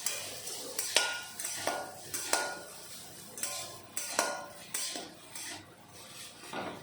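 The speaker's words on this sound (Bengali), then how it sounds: "এখন ভালো করে মিশিয়ে নেব।" A utensil stirs and tosses egg chowmein with soy sauce in a pan, making about a dozen rhythmic scraping clatters against the metal over a soft sizzle, close by and with no talk.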